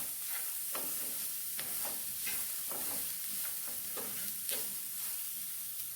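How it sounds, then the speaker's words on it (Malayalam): Vegetables and salt sauté for rava upma in a pan, a soft steady sizzle with repeated scraping stirs at an even rhythm, close and fairly quiet, no talk. "നല്ലതുപോലെ ഉപ്പും അതെല്ലാം കൂടെ വഴറ്റി കൊടുക്കുക."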